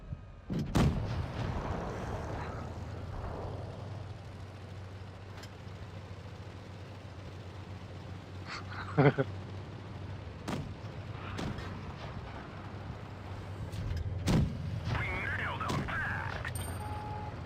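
Tank cannon shots in World of Tanks Blitz ring out as sharp, booming blasts, several spaced irregularly across the clip over a steady low engine rumble of the tanks.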